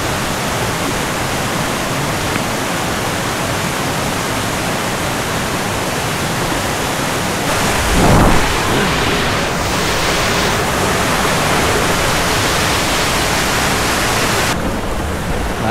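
A mountain river rushes near Rima village in Myagdi, Nepal, as a loud, constant roar of fast water that surges briefly about halfway through, with no voices over it.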